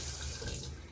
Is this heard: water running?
yes